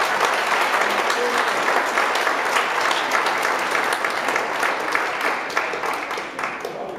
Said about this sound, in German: ich bitte um Applaus